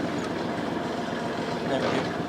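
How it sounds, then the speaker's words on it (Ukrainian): Kubota GL 25 walk-behind tractor with its rotary tiller running in first gear, a steady, loud, continuous mechanical engine drone with a dense rattling texture throughout, no voices. "Ось у нас Повністю на усіх діапазонах фреза працює."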